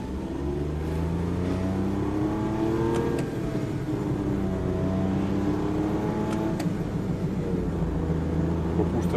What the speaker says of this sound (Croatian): To nam je mali operativni auto.